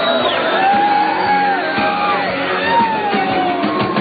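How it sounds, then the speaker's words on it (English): Crowd at a 1985 California surfing contest beauty pageant on the beach, loud cheering and whooping with high rising and falling whistles cutting through the steady din. "wolf whistles and all"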